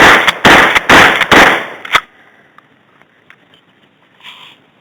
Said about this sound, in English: I think I'm going to implement some of the videos in this video to show you what it's like to shoot from the hip.